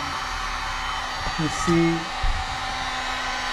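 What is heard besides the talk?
heat gun blowing hot air on vinyl headlight decal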